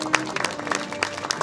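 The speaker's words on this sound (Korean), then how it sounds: "네, 여러분 다시 한번 박수 한번 보내주시기 바랍니다." Scattered, uneven hand claps from an audience at a political party launch ceremony, with sharp separate claps rising above a low room hum rather than a full ovation.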